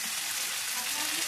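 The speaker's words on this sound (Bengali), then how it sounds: "মাংসগুলো দিয়ে এই যে কষিয়ে নিচ্ছি একটু ভালো করে।" Meat sautéing with spices in a pan gives a steady, dense sizzle of hot oil, continuous and fairly close, with no pauses across the short stretch.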